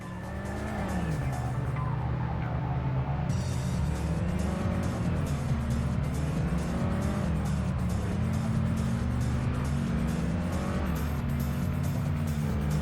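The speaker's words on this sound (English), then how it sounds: "I can hear the slightest bit of turbo whine." A V6 turbo car racing in the PS1 game Vanishing Point, a loud continuous engine drone with shifting pitch and a thin turbo whine, tire squeal layered throughout.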